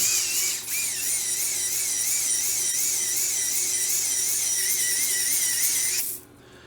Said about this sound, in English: There's my new drill, by the way. It's a Metabo.